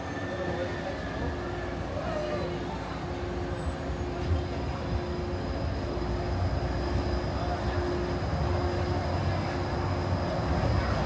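The Disneyland monorail runs at the Tomorrowland station with a continuous rumbling hum and faint whine, steady throughout; a voice may murmur under it.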